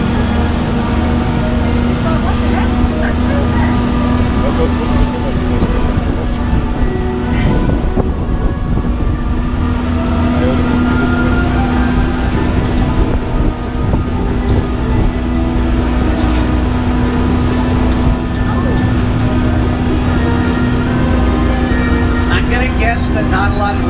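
Universal Studios Hollywood tour tram rolling steadily with a constant mechanical hum and drone, while a guide talks over the ride throughout.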